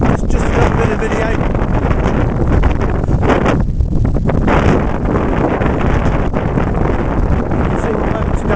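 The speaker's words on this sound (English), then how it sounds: "It's windy, it's not overly cold" Strong wind buffets the microphone on the Rhyd Ddu path up Snowdon, a loud continuous roar with gusty surges that stays unbroken throughout.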